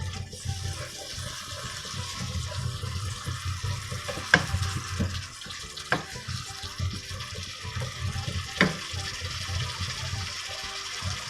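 Spice masala roasting in a pan for achari gobhi, a low bubbling sizzle with occasional sharp clinks from a spoon against the pan, steady and close with no talking.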